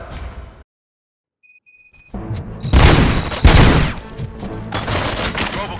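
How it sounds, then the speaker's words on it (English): Heavy gunfire in the video game RoboCop: Rogue City, bursts of loud rapid shots and booming impacts following a brief silence with a few chimes, dense and close throughout. "Gunshots? What's going on?"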